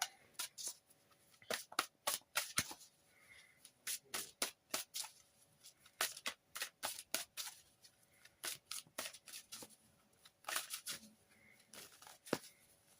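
Witch's Tarot cards being shuffled in repeated crisp riffling bursts, close and fairly quiet, with short pauses between shuffles and no talking.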